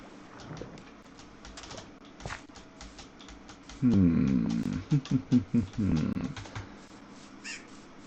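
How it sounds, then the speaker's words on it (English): A crow from the Alex's Mobs mod in a modded Minecraft game caws in a quick burst of harsh rhythmic calls midway, over faint game ambience with a voice talking at points. "Crow? Is that a crow?"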